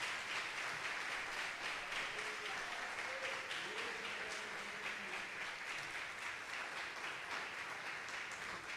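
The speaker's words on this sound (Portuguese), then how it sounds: "Quem pode aplaudir o Senhor," Church congregation applauding during a bishop's sermon, a continuous dense wash of many hands clapping that holds evenly throughout, with faint voices underneath.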